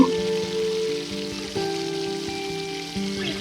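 Crushed cumin and garlic sizzle steadily in hot oil for veg fried rice, a close continuous crackle with faint clinks and tonal background hum.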